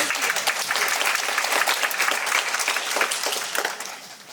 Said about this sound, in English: clapping is part of the sentiment and feedback and should definitely be included in this hearing